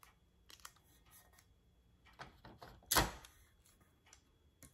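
Heat transfer tape being pulled and pressed onto a travel coffee mug for sublimation, faint close crackles and taps with one louder ripping peel near the middle, quiet throughout.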